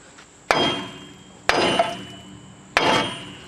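A big hammer strikes a steel suspension knuckle to knock a TrailBlazer ball joint loose: three loud, sharp metallic blows spaced about a second apart, each ringing briefly before fading, close up.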